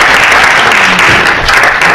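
An audience claps steadily for a family being thanked at a talk on college costs, a dense, close, even roar of many hands with no voices over it.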